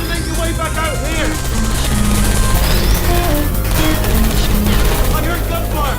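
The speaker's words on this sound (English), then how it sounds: "I heard gunfire!" Bursts of rapid gunfire in Portal 2 crackle repeatedly amid chaotic game sound effects and music, continuous and loud throughout.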